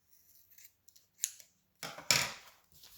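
Scissors snipping the end of cross-stitch fabric, a few quiet crisp cuts followed by a louder, sharper double snip close up, with no talking.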